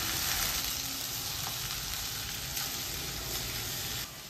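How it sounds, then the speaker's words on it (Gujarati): Chopped okra sizzles steadily in a hot pan for a Gujarati okra and onion dish, a dense even frying hiss close by with a few faint stirring scrapes, dropping in level near the end. "અને હવે આપણે એની અંદર ભીંડા જે સમારીને મૂક્યા છે એ અંદર એડ કરી દઈશું. પહેલાં બધું મિક્સ કરી દેવાનું છે"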